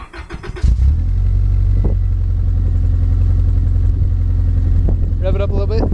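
A 2003 Subaru Legacy fitted with a new exhaust cranks briefly and then starts, settling into a loud, steady low rumble at close range, with a voice speaking briefly at the start and near the end.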